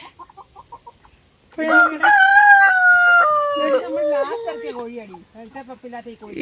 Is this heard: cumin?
no